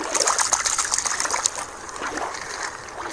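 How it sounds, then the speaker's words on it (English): Water trickles and splashes steadily in a bright, continuous stream as a cartoon squid is put back into the sea, with no talking over it. "Let's put the squid back in the water."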